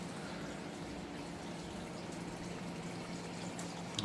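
Water seeping back into a dug hole in a garden bed, a faint continuous trickling and gushing wash that holds steady at low level throughout.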